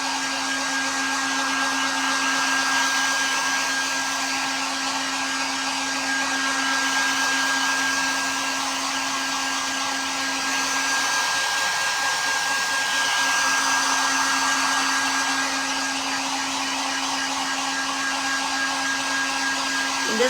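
A hair dryer drying a coat of paint on a bag, a loud, steady whirring blow with a constant hum running unbroken throughout, close by and alone with no talking.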